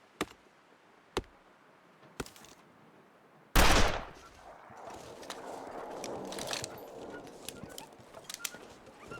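Video game gunfire: a few isolated sharp shots spaced about a second apart, then a loud close blast that gives way to a busy stretch of scattered crackling fire and rumble.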